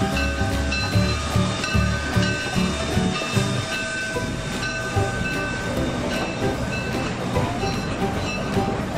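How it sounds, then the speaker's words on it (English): A train rumbling along the rails, with steady rhythmic clatter of wagons and a hissing undertone, continuous and fairly loud. "Train."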